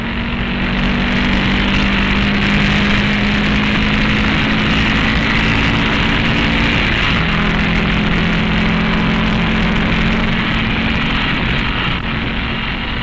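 A 1958 race car on the Road America straightaway, its engine droning loud and close at a steady high pitch, with a slight pitch shift partway through as it runs flat out.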